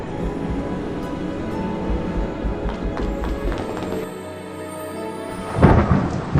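Stormy weather in the Harry Potter and the Prisoner of Azkaban PC game: a steady wash of rain and rumbling thunder, with a louder low crack of thunder near the end.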